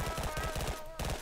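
Rapid gunfire in a multiplayer shooter game, a quick series of sharp, evenly spaced shots over dense background noise, brief and fairly faint.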